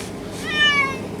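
A cat meows once inside a car during a drive on a rainy day, a single drawn-out cry heard close over the low rumble of the road.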